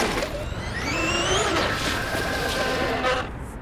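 An upgraded electric Traxxas X-Maxx 6s RC car pulls away with a rising motor whine that climbs quickly in pitch, then holds a steady high drone, with a voice briefly audible nearby.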